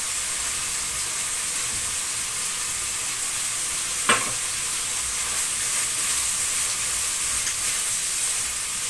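Steady sizzling of green pepper frying in a pan with beef liver and garlic, a continuous bright hiss with one brief scrape or stir partway through, close and even throughout.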